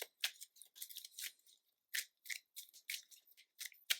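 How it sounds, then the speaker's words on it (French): Playing cards for the Marvel Champions card game are shuffled close by, quiet crisp riffling bursts in quick irregular succession with short silent gaps. "On va brasser les cartes."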